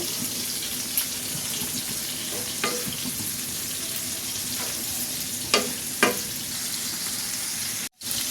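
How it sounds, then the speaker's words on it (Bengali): Prawns sizzle continuously in a hot pan, a close, even frying hiss with a few spatula taps and a brief dropout near the end; no voices. "মাছটা ভাজা হয়ে গেছে, আমি উঠিয়ে নেই।"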